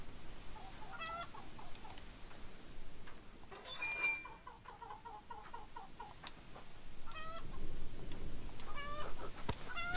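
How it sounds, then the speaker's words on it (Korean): Chickens clucking intermittently in short rhythmic bursts in the Korean horror game Hollow Cocoon, set near a rural well, faint to moderate over a low ambient background. "닭들이 아직 살아있네?"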